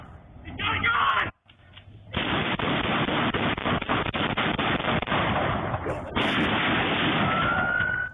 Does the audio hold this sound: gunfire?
yes